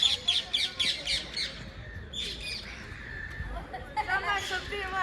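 Parrots squawk in a rapid series of harsh, repeated calls, with more squawks later and people talking in the background.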